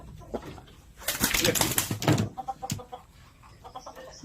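Japanese Shamo broodcock giving a burst of close, loud clucks and throaty calls in the middle of the clip, followed by quieter scattered clucking.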